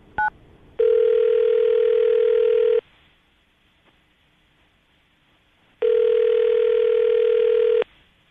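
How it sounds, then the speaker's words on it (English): A telephone ring tone on the line sounds twice, each long steady two-second burst separated by a few seconds of quiet. "We're going to call her right now"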